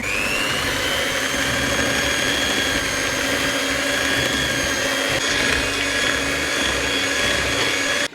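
Mixer steadily whirring through a coconut mixture for vegan tiramisu, a loud continuous motor drone with a high whine, close by and unbroken, with no talking.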